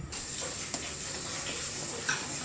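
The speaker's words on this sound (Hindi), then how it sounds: "पानी उबल गया, ये देखें पानी उबल गया।" Water heating in a pot over a high flame for village-style beef pulao, a steady close hiss with faint sizzling and a few soft bubbling pops, without talk.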